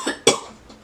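A short coughing burst from one person: a light cough, then a sharper, louder cough, and a faint third one trailing off, all close and within under a second.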